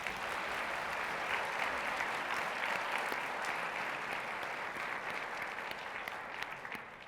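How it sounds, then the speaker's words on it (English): Audience applauds outstanding students at a 2019 conference opening session, a steady dense wash of many hands clapping for about seven seconds that tapers slightly at the end, with no talking over it. "Join me in a round of applause for these outstanding students."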